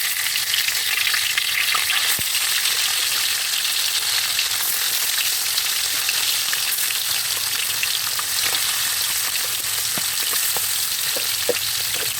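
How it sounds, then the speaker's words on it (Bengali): Steady, loud sizzling of carp frying in hot soybean oil in a wok, with a few faint clinks and pops, no talking. "মাছটা এখন ভাজবো, তারপরে রান্না করব।"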